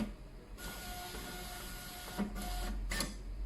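A Zebra ZT231 barcode label printer calibrating, a close mechanical whir of the feed motor running steadily, followed by two short bursts of label advance near the end.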